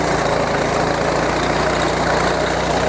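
A wheat reaper machine's engine runs steadily in second gear, a continuous loud mechanical drone with low vibrating hum and no pauses, with no voices over it.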